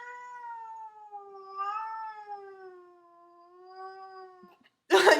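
A cat yowls in one long, wavering, drawn-out caterwaul, rising and falling in pitch for over four seconds, close and clear against silence, followed by a sudden brief burst of noise at the end.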